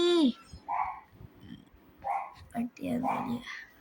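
A dog barks in short bursts close by, a few sharp barks separated by pauses, with quiet speech in between.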